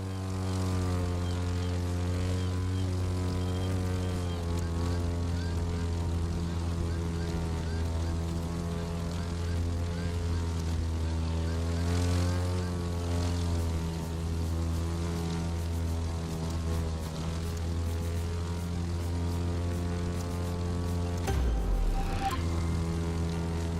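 Propeller airplane flying low over treetops in The Crew 2, a loud, steady engine drone with droning harmonics that rise and fall slightly as the aircraft maneuvers, with a brief rushing whoosh near the end.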